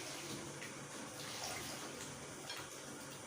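Water phase poured into a BTMS lotion mixture while making face cream, giving a soft, steady, faint wash of splashing liquid that runs without a break.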